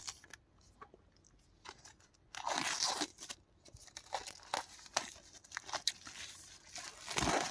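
A collectible steelbook case is unwrapped and opened up close, with crinkling and tearing plastic film, sharp crackles and a few louder rustling bursts over several seconds, and no speech.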